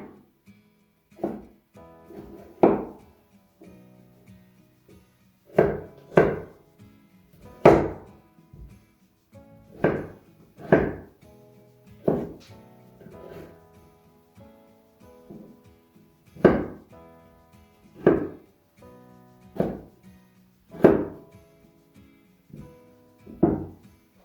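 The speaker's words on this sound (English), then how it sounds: "I'm going to chop some onions" A knife chops onions roughly on a cutting board, about twenty crisp thunking strokes in loose groups with short pauses between them, close and clear with no talking.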